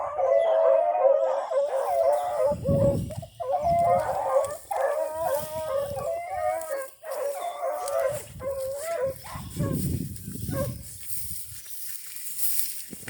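Rabbit hunting dogs bay and howl while running a swamp rabbit outdoors, with overlapping yelps and drawn-out howls coming in bursts at close to moderate distance and short quiet gaps between them.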